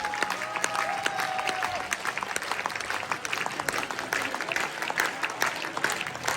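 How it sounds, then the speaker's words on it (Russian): A standing audience applauds a guest of honor at a studio show, dense continuous clapping from a sizable crowd, with a brief tonal whistle or voice early on, heard at moderate loudness throughout. "Поднимайтесь, аплодисменты!"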